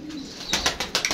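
Pigeons kept in a box cooing softly and close, a few low throaty coos and rustles over roughly a second.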